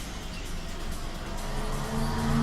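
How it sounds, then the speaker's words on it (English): A loud car passes by outside, heard as a low, muffled rumble that swells toward the end as it draws nearer. "that fucking car's loud."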